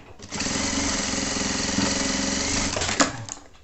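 A sewing machine runs in one steady, continuous burst, stitching through a folded milk carton box with bias binding, loud and close, ending with a brief sharp clack as it stops.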